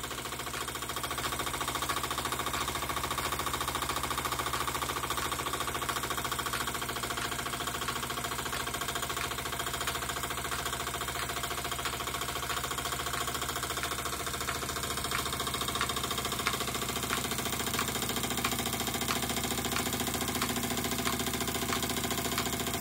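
An EngineDIYShop OKMO Microcosm P71 mini water pump runs with a steady, continuous mechanical hum and fine rapid ticking, close and even throughout with no talking.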